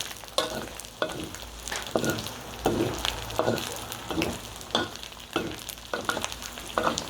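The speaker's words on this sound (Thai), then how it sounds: "น้ำมันก็ เริ่มออกมาเยอะแล้วค่ะนี่ค่ะ เจียวไปเรื่อยๆ" Pork skin frying in rendered oil for pork cracklings, a continuous crackling sizzle with rhythmic stirring strokes every half second or so.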